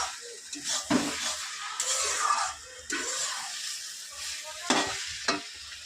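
Cabbage being stirred in a hot pan to dry off its water, repeated scraping strokes over a continuous sizzle, close and fairly loud, in irregular rhythm.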